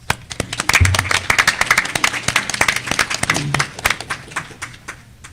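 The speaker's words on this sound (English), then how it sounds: "So can we give him a round of applause, please?" A modest audience claps for the interim provost introducing a Green New Deal panel, distinct individual claps in a loose, uneven patter that thins out toward the end.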